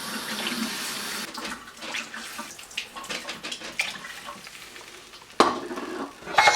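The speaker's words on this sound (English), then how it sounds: "Stir it up one more time." Red lentils in water are stirred in a cooking pot, a soft, uneven swishing and scraping close by, with a sharper clatter of the spoon against the pot near the end.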